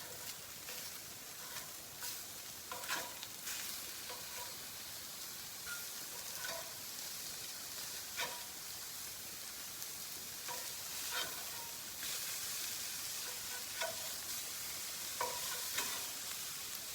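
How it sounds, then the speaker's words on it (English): Sausages and breakfast patties sizzle steadily in a frying pan, a continuous hiss broken by occasional stirring and scraping sounds, with no one speaking. "while I finish cooking these patties, these sausages here"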